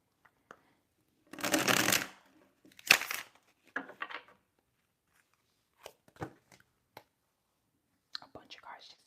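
Tarot cards are shuffled in quick riffling bursts, close and crisp, followed by scattered soft flicks and taps of cards being handled, with faint whispering in between.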